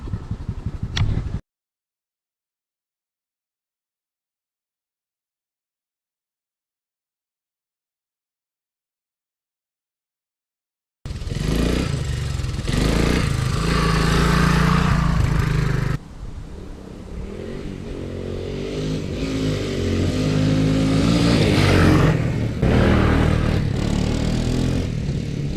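Honda ATC185s/XR200 engine running with a suspected high float level, heard loud and close after a long silence, rumbling at a raised idle and rising in revs toward the end.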